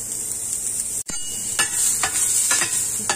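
Ginger frying in hot oil in a pan, a steady bright sizzle with a few soft stirring scrapes and knocks.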